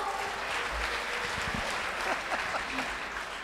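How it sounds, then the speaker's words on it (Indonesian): Audience applause at a debate between regent and deputy regent candidates in Abdya, a steady, even wash of clapping that fills the whole stretch at moderate level, with a few faint voices underneath. "bisa kita berikan tepuk tangan dulu"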